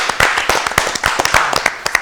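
An audience at a Ramadan quiz show claps for a team, a short burst of close, uneven handclaps with individual sharp slaps standing out.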